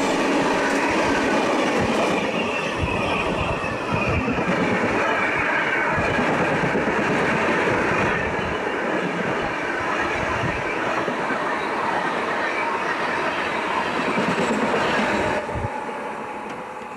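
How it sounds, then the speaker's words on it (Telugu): A MEMU express train rolls through a railway station, a loud continuous rumble of wheels and carriages with rhythmic clatter on the rails, close and steady before easing slightly at the end. "మన ట్రైన్ వచ్చేసండి గూడూరు నుండి ఈ రైల్వే స్టేషన్ వరకు 55 కిలోమీటర్లు అయితే ట్రావెల్ చేసిందండి."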